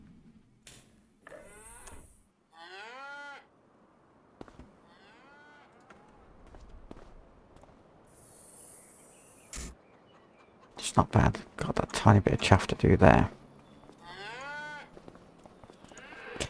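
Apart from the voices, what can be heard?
cows mooing in video game Farming Simulator 25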